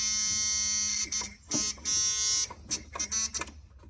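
A harsh electronic car warning buzzer in a Dodge blares in repeated bursts of uneven length, loud and close, with brief gaps between the tones.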